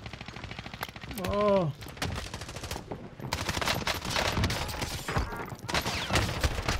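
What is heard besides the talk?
MP5 rapid fire gunfire in a video game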